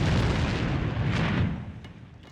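A grenade blast in the shooter game A.V.A lands as a loud, rumbling explosion that rolls on for over a second before fading out.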